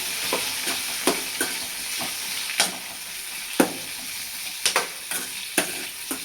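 Stirring shevga (drumstick) bhaji with onion-garlic masala and chilli powder in a pan: a steady sizzle under repeated sharp scrapes and clicks of a spoon against the pan, close and fairly loud, with no talking.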